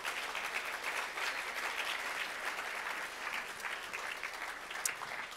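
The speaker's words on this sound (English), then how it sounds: "Give them a huge round of applause." Sustained, dense applause from a dinner-debate audience at the Ci2017 conference, cheering a panel on stage; steady and full for over five seconds with no speech over it.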